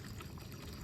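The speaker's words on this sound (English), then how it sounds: "The water's coming out" Water from a fresh spring in the Smoky Mountains trickles and pours in a steady, close stream, with no voices over it.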